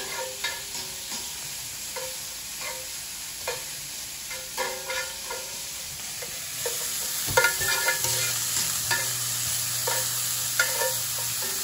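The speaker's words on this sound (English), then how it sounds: "All those little pieces of garlic in there. Just stir." Sausage and minced garlic fry in a hot pan with a steady broadband sizzle, broken by repeated scraping strokes of stirring, a little louder toward the end.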